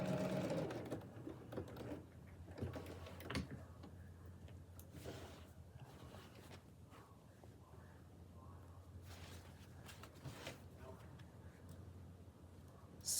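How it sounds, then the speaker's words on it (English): A sewing machine stitches a center line along the fold of an apron, running as a steady, fairly quiet mechanical hum with faint ticking for the whole stretch, with no talk over it. "Now this is just sewing a center line, which I'm just following the fold line"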